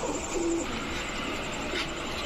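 Soft, low pigeon coos from green-necked pigeons under a steady background hiss, a couple of faint throaty calls.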